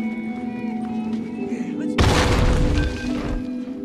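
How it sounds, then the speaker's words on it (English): A nail bomb detonates in the video game The Last of Us, a sudden loud blast midway that cuts through a steady humming background and then rings out with a rumbling, crackling tail. "you can use those same type of nails to make a bomb."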